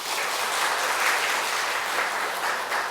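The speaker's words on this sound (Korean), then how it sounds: "우리 가정에게 한번 격려의 박수 한번 합시다" A church congregation claps together in a sustained burst of warm, dense applause during a Sunday service, filling the room evenly for a few seconds with no speech over it.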